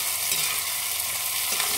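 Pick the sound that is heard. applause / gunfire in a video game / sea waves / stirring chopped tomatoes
stirring chopped tomatoes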